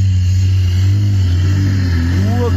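An Audi A6 with quattro all-wheel drive accelerating off-road, its engine a steady loud low drone with a slight rise in pitch toward the end, close and continuous.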